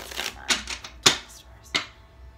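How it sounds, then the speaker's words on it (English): Tarot cards shuffled by hand in a few brisk riffling bursts, close and fairly quiet, with soft handling noise between them. "I would like to shuffle a few times on camera just in case."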